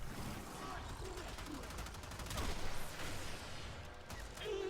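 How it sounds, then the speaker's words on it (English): Rapid shotgun fire from the Sancti Tigris in the Warframe video game, a dense run of gunshot bursts with mechanical clatter, loud and continuous for a few seconds in a busy game mix. "the Sancti Tigris kills in one shot."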